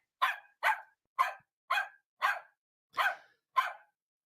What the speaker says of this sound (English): Yes, here's our dog, Lily.